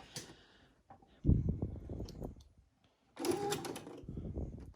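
A home sewing machine back stitches the start of a half-inch seam at 3.5 stitch length, giving two short bursts of near, rattling whirr separated by a brief pause.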